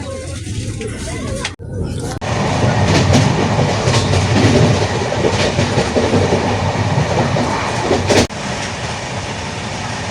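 Steady rumble and rhythmic clatter inside a moving passenger train on a journey to Puri, loud and continuous with a brief dip near the start; a voice talks faintly over the noise.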